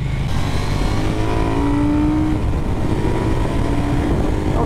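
A 2024 KTM 990 Duke motorcycle pulls hard under acceleration, its engine note loud and constant throughout, with rising pitch sweeps and steady wind roar from the ride.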